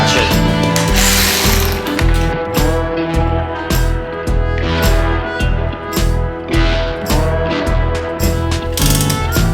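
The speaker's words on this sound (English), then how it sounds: "I'm actually gonna be a little cheeky here and grab my electric ratchet" An electric ratchet runs down the studs on a Ford 7.3 Powerstroke engine during an Econoline E-350 van rebuild. It gives loud, close, repeated bursts of rapid mechanical clicking and whirring with short pauses between runs, and there is no speech.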